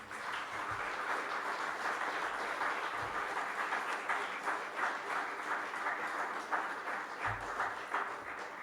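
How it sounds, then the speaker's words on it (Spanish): A church congregation claps steadily during a Spanish-language sermon, a continuous wash of applause at moderate distance with a few low thumps mixed in. "Dale un aplauso al Señor"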